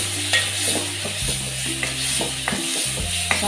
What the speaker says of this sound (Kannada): ಚೆನ್ನಾಗಿ ಕಲಗಿಸ್ಕೊಳ್ಳಿ.